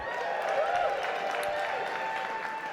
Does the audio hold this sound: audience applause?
yes